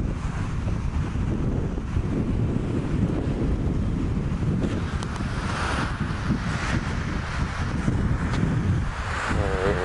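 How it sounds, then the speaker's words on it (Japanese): Strong wind buffets the microphone at a campsite in Amakusa, a steady loud low roar that gusts harder partway through, with a surf-like wash and no voices. "ちょっと風が強いのでね"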